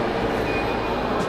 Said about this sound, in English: Everybody's taking the train.